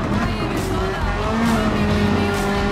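A race car in GT Sport on PS4 brakes hard to overtake, its loud, steady engine whine layered with squealing tires, close and continuous with no talk.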